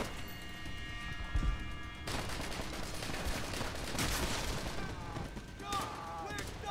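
Gunfire in the video game Call of Duty World at War comes as dense, continuous volleys of shots and bursts, loud and close, with voices faintly talking underneath.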